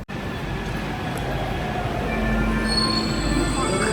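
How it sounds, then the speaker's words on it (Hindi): Paris metro train wheels squealing on old underground track, a loud sustained metallic screech with high whining tones that grow stronger over a steady low rumble. "इसके बाद मैं सिटी मेट्रो में आई हुई हूँ"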